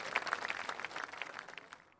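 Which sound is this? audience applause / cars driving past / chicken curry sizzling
audience applause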